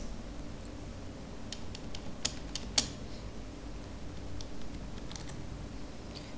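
Keystrokes on a computer keyboard entering a Ctrl Shift A shortcut, a few faint scattered clicks over a low steady hum with no talking.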